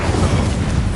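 A fire spell cast in the Hogwarts Legacy video game lands as a loud, dense whooshing burst of flame that fills the whole second, boomy and roaring with no gaps.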